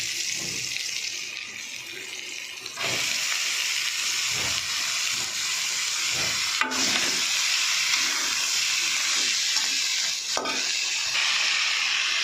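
Red amaranth greens go into a hot pan and fry with a loud, continuous hiss, broken by a few scrapes and clinks from stirring.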